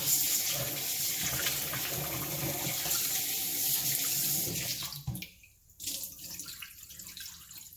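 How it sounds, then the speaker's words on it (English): Tap water runs steadily into a bowl of rice during rinsing, a loud continuous splash that cuts off abruptly near the end and gives way to quieter trickles and drips. "you want to wash and rinse this like 3 to 4 times"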